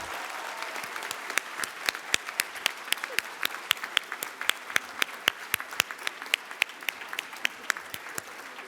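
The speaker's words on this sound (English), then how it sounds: "A round of applause for our early college scholars." Audience at a school dual enrollment recognition ceremony applauds steadily, with sharp individual claps standing out rhythmically from a moderate, sustained wash of clapping throughout.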